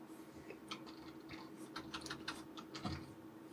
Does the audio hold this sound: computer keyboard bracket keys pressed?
yes